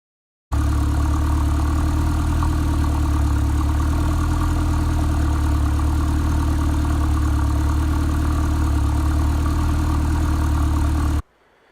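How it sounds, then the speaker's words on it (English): A steady, loud engine idling on a Pinto Turbo kit car with a deep low rumble, continuous and unchanging, then cutting off abruptly near the end. "the car has literally just been shut off after idling for 20 minutes"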